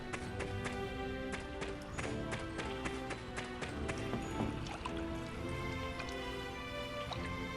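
A character wades through water in the Casnia Mine of the video game Ys Memories of Celceta, quiet repeated sloshing footsteps mixed with a bright, steady game soundtrack.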